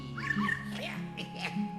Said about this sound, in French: Et voilà mon petit chien.